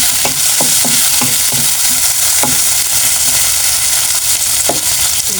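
Tomatoes frying in a pan with sauteed onion and garlic, a loud, steady sizzle close by, broken now and then by soft scrapes and taps of stirring.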